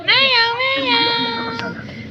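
Domestic cats meowing up close, a long drawn-out call rising and falling over about two seconds, with a faint second cat sound near the end.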